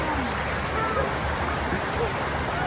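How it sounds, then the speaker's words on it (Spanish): Water from a stream near waterfalls rushes steadily, a broad continuous close wash with no pauses, and voices faintly beneath it. "Para allá están las cascadas, pero tenemos que pisar el agua en unas partes."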